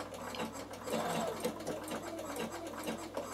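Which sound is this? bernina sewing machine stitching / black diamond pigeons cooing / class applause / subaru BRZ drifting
bernina sewing machine stitching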